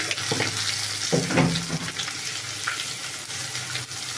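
Nigella seeds (kalo jira) hitting hot oil in a pan, giving a close, loud, continuous sizzle and crackle with a burst of spatter early on before settling into a steady fry.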